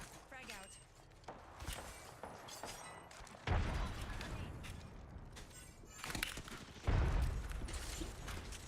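In a video game, a thrown frag grenade detonates with two heavy, booming blasts a few seconds apart, amid scattered gunfire and clatter, with voices talking over the action.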